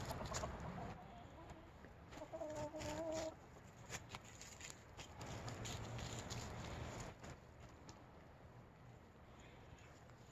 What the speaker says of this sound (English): we got a silky. His name's Bob. A silky rooster.